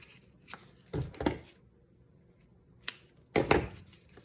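Scissors snip through a sheet of paper while a flip folio for a junk journal is made, giving a few separate close crisp cuts with short pauses between them.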